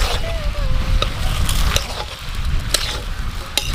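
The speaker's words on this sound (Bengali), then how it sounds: "আমি কষি, সুন্দর করে কষতে হবে।" Vegetables for a vegetable chop sizzling as they are stirred and sautéed with spices, salt and sugar in a pan, a steady close frying hiss with occasional scrapes and clinks.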